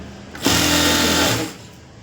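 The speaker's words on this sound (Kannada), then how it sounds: "ಸ್ಟಿಚಿಂಗ್ ಮಾಡಿದಾಯಿತು" One close, loud burst of a sewing machine stitching a blouse lining, lasting about a second with quiet before and after.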